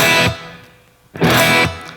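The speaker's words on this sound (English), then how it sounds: "From here, I add a little bit of reverb." Electric guitar through a simulated classic Marshall tube amp with plate-style reverb: two loud, crunchy strummed chords about a second apart, each trailing off in a smooth reverberant tail, heard close with no talking.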